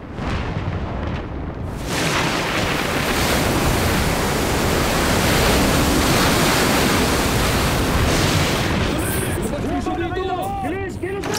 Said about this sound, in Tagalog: Ang lakas na maalon!